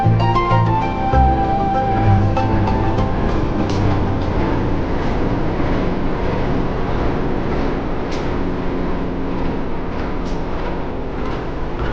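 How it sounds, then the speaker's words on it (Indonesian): Locomotive CC 2018908 hauling the Motis Lebaran Tengah train idles at Pasar Senen station in a loud, steady diesel rumble with a continuous droning hum that holds level and close throughout. "ini dia lokomotif dinas kereta api Motis Tengah Lebaran menggunakan lokomotif CC"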